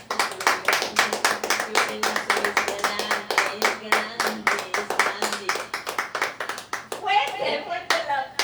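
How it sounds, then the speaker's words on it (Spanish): A church congregation claps in a fast, even rhythm, loud and near, keeping time for most of the stretch before a voice speaks briefly at the end. "denle un aplauso al Señor Jesús"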